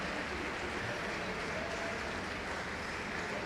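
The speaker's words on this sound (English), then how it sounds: "The crowd gives a standing ovation for a job well done." A volleyball crowd at a men's final rises in a standing ovation, a dense, sustained wash of clapping that fills the space evenly from start to finish, with no talk over it.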